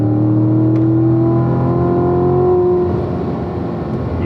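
Corvette Grand Sport on a racetrack accelerating hard at full throttle, a loud steady engine roar with rising harmonic pitch close to the microphone, easing slightly toward the end; no talking.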